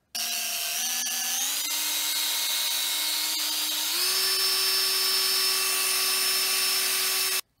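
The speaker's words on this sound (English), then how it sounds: "Now I'm going to polish it using this polisher for brass and copper." An electric polisher buffs a brass nail spike, giving a steady close motor whine that steps up in pitch as the load changes, continuous for several seconds with no voices.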